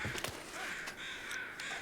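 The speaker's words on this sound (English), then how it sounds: "these crows over here" Crows in The Long Dark caw in a few harsh, rasping calls spread across a brief moment, fairly faint against a quiet, airy wilderness background.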